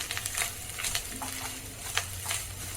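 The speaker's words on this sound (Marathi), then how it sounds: "पहिलं आपण आता खोबरं भाजून घ्यायचा हे ओलं खोबरं आहे छान असं मस्त खमंग भाजून घ्यायचं" Fresh grated coconut roasting in hot ghee in a pan for a fasting sweet, with a soft steady sizzle and several light spatula stirs and scrapes close by.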